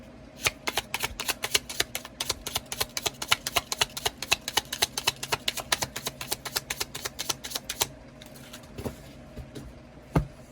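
Oracle cards are shuffled in a rapid run of crisp, close flicks and taps for about eight seconds, then the sound stops with a few scattered soft handling noises.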